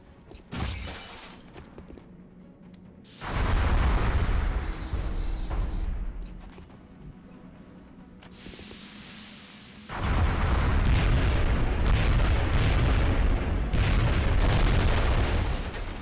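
Heavy explosions in the XCOM Enemy Within video game: two loud, booming blasts, each with a long rumbling tail, separated by a quieter stretch of crackling debris.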